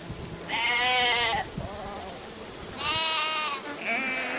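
Sheep and goats in a herd on open Central Asian grassland bleat in three separate wavering calls, two long and one shorter, close and clear over quiet ambience.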